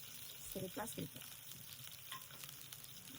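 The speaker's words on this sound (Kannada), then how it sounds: "ಸ್ವಲ್ಪ ಫ್ರೈ ಮಾಡ್ಕೊಳ್ಳೋಣ" Green chillies frying in a pan, a steady sizzle with brief stirring clatter near the start, continuous and close with no talk.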